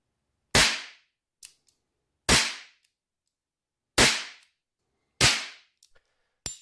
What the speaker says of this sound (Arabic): الحين نسمع صوت الطلقات